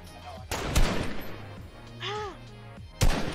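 Gunshots from the video game Fortnite during a squad match: a few sharp, loud bangs spaced apart, with game effects and a brief rising tonal whoosh between them.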